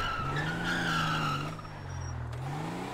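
Car drifting in GTA, tires squealing in long wavering screeches over a steady engine roar, loud and close for about three seconds, easing briefly near the end before the squeal resumes.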